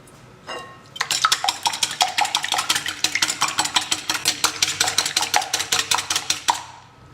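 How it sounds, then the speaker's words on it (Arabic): Eggs whisked by hand in a bowl with liquid vanilla and a pinch of salt for a sugar-free date and oat cake: quick, steady rhythmic clicking and tapping strokes, close and fairly loud, no voices. "ونخفق البيض جيدا"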